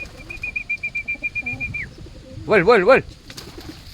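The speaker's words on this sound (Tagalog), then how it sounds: "yung aking mga ibon na yan guys, pagka binuksan ko na yung aking kulungan, lalabas na yung mga yan" Pet pigeons cooing in a backyard cage, a steady run of soft rhythmic coos followed by a louder burst of calls, with a few brief spoken words nearby.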